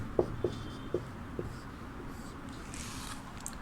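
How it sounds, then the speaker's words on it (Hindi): Writing during a Hindi lesson, a few soft taps and short scratchy strokes near the start, then faint quiet scribbling over a low room hum, with no talking. "तो भाषा के बाद हम लोग लिपि का लिखेंगे।"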